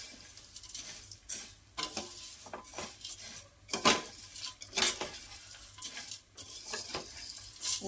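Spicy Kolhapuri garlic puffed rice snack being mixed with thick sev in a pot, with scattered scraping clinks and rustles of the utensil against the metal at an uneven pace, close and fairly quiet, no talking.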